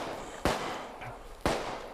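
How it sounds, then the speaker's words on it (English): Two sharp gunshots in a zombie video game ring out about a second apart, each a sudden crack that decays quickly into a low background hum. "I can hear gunshots, oh my god."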